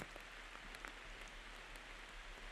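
Steady rain falling over an outdoor disc golf course during a women's championship round, a soft constant hiss with scattered faint drop taps, distant and low in level.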